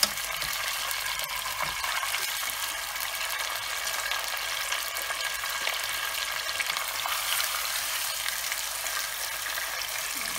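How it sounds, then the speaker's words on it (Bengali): Murray cod fries lightly in a pan, a steady, even hiss of oil that runs at moderate loudness from start to finish with only faint handling noises. "হালকা একটু ভাজা হয়ে গেলে এখন আমি মাছটাকে সাথে সাথে উঠিয়ে ফেলবো"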